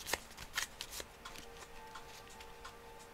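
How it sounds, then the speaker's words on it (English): Blue-backed cards from a board game deck riffled and shuffled close by, a few quick crisp bursts of flapping cards early on, then softer scattered ticks and slides of card against card. "I'm gonna shuffle them."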